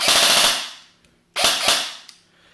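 A Classic Army X9 Nemesis airsoft SMG fires two loud, close full-auto bursts of rapid snapping shots. The first burst is longer, and a short pause separates it from the second.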